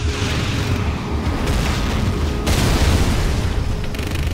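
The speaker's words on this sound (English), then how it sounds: "Arming cruise missile" A cruise missile launches in C&C Rise of the Reds, a loud, sustained roaring rumble with a sharp surge midway, continuous throughout with no talk.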